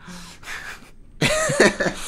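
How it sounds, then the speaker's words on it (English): A person coughs a couple of times close up, a rough, breathy burst after a brief quiet moment. "did you cough on it a little bit?"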